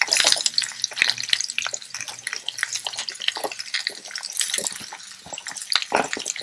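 Chopped onion and carrot sizzle in a hot pot, giving a crackling, spattering fry with scattered pops and stirring scrapes, close up and moderately loud without speech.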